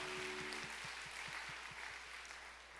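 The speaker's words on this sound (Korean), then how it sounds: "우리 그렇게 하실 하나님께 감사의 박수 올려드립시다" A congregation claps together during a Sunday morning church service, a dense wash of applause that starts full and slowly thins and fades toward the end.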